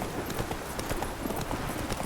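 Roach, a horse in The Witcher 3, trots over ground with a brisk, steady clip-clop of hooves that stays close and loud.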